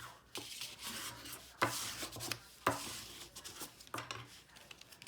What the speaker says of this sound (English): Using your bone folder as you go to burnish the lines or the folds.